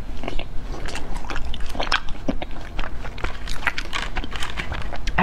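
Someone bites and chews ice cream from Hangzhou's West Lake, making close, crisp crunching and soft squishing bites in an irregular rhythm over a steady low background.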